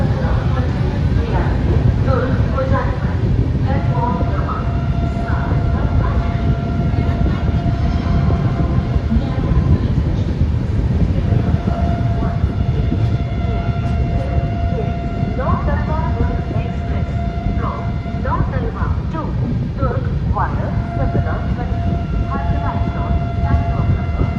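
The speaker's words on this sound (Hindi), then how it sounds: "हमारी 12274 new Delhi Howrah Duronto express skip कर रही है उत्तर प्रदेश के एक बहुत ही बड़े बिजीएस्ट रेलवे स्टेशन यानी प्रयागराज जंक्शन रेलवे स्टेशन" The 12274 New Delhi–Howrah Duronto Express passes through Prayagraj Junction, with a continuous heavy rail rumble and rattle heard from onboard for over twenty seconds and scattered tonal whines and voices mixed in.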